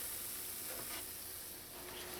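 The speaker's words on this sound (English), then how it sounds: "I'm going to continue frying them until I've fried out all of my kachoris." Kachoris fry in hot oil with a soft, continuous sizzle and faint bubbling, heard close up and alone at low volume.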